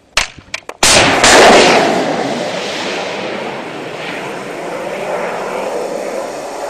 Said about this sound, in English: I fired a javelin.